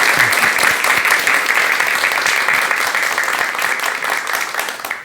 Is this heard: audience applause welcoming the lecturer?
yes